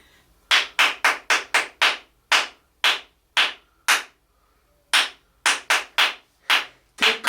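Hand clapping game played by children, with about fifteen sharp, bright claps in quick rhythmic groups separated by short pauses, loud and close with no talking.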